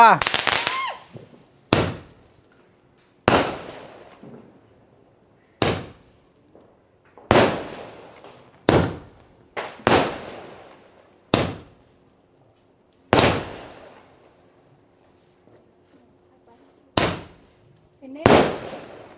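Diwali firecrackers burst one after another at a family celebration, a dozen sharp loud bangs at irregular intervals, each trailing off into a short decay, with quiet gaps and faint background voices between blasts.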